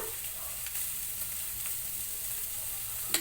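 Carrots and chayote sizzle steadily in a hot pan while being stir-fried for chopsuey, a constant close frying hiss with a few faint clinks, and no talking.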